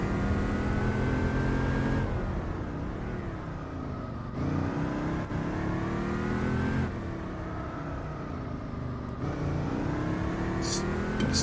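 A Gran Turismo 4 race car engine revs hard and climbs through the gears. The pitch rises in repeated sweeps, broken by quick shift drops about every two seconds, and the whine stays loud and close throughout.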